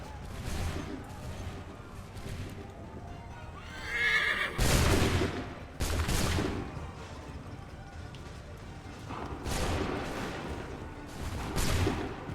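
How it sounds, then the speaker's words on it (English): Musket volleys in Assassin's Creed 3 boom as a few loud, sudden bursts, mixed with horse whinnies, hoofbeats and game speech. "Open fire."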